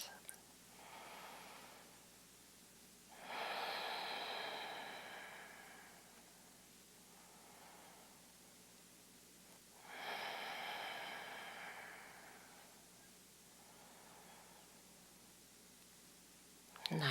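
Slow, relaxed breaths during a yoga session, two long, soft exhalations rising and fading amid quieter breathing, close and gentle with no talking.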